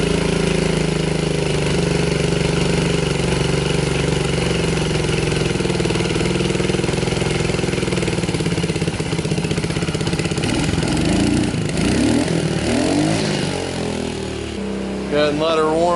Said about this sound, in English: Turn that idle back down so it's not idling so high.